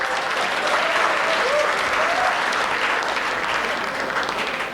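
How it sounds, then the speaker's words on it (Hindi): Sustained audience applause fills a hall at a Hindi comedy poetry gathering (hasya kavi sammelan), a steady dense wash of many hands clapping at close range with faint voices mixed in, holding evenly throughout. "तालियां आती हैं इस पे।"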